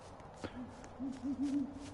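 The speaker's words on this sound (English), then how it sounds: "Hello, owl. Go away." An owl in a Roblox game gives a short run of soft, low hoots near the end, fairly faint over a steady background hum.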